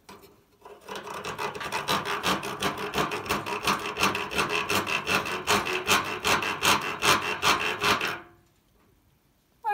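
A hand saw cutting a small piece of wood, fast rhythmic back-and-forth rasping strokes, loud and close, running for about eight seconds before stopping abruptly.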